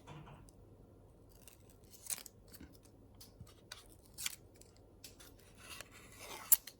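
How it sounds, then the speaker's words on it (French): Adhesive tape peeled away from a newly fitted black carbon Renault car logo, a quiet close series of short ripping and crackling bursts with brief pauses, the loudest pulls near the end. "Voilà, donc je retire les scotch."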